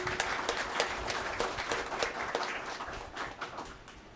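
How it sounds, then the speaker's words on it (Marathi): An audience at an interview event claps to welcome the guest, a steady, moderately loud round of applause that thins slightly toward the end. "आपण सगळ्यात आधी हेरंब कुलकर्णींचं जोरदार टाळ्या वाजवून स्वागत करूया।"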